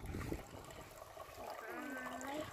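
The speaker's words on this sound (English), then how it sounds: "Cause it's fun listening the water. It seems like we have a little creek, right?" A gentle trickle of water like a little creek runs quietly and continuously at home, with a voice speaking softly over it.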